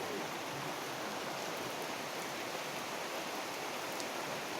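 Steady rain falls in a continuous dense hiss, even and unbroken, with no voices.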